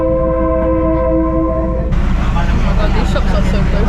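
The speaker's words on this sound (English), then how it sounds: "So here you can see the train passing through what is a fully functional market" A train horn sounds with steady harmonic tones as a train rolls into the Maeklong Railway Market in Thailand, then gives way to loud rumbling and clattering of the cars passing close by.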